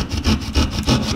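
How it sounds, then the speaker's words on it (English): A hand saw cuts a hole in sheetrock for an old work electrical box, a loud close rasping rhythm of about three back-and-forth strokes in just over a second, with no voices. "I'm trying to get the hole cut now in the sheetrock"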